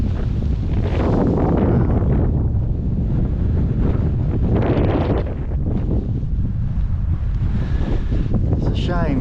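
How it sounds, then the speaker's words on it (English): Strong wind buffets the microphone on a winter hilltop among the coastal dune mounds of East Hills near Wells-next-the-Sea, a loud, continuous roar that swells and eases in gusts. "Oh, it's windy up here."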